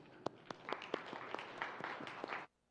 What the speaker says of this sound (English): So please join me to give a big applause to Mr. Martin Ich.